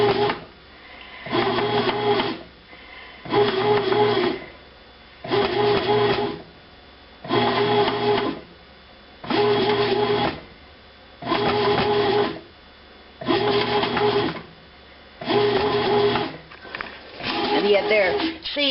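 A Hamilton Beach bread machine kneads rye dough with caraway and poppy seeds, wobbling on a kitchen counter; loud rhythmic churning bursts repeat about every two seconds with short quiet gaps between.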